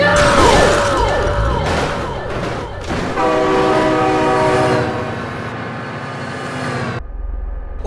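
In a video game with flatbed trailers, cars and speedbumps, a train comes through. A loud, wavering train horn sounds over rumbling wheels and a crash-like clatter, with a shouted voice early on, and the train noise carries on steadily until an abrupt cut.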